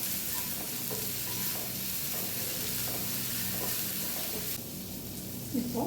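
Onions with a pinch of salt sautéing in a pan for chapati egg kothu give a soft, steady sizzle with light stirring scrapes, fairly quiet and without talk.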